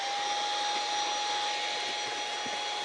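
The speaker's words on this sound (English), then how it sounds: "So I'm going to get a little vacuum cleaner, quickly give it a going over" A small vacuum cleaner runs steadily inside a Mazda 626 cabin, a constant close whirring hiss with a thin motor whine and no breaks.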